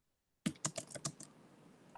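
Rapid keyboard typing picked up by an open microphone during an online advisory commission meeting, a burst of close, crisp key clicks starting abruptly after a moment of silence and continuing in an uneven rhythm.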